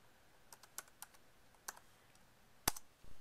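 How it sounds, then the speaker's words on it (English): Someone types a password on a new aluminum MacBook keyboard, a short run of quiet, irregular key taps ending in one louder, sharper press, followed by a soft thud. "Let me type in my password."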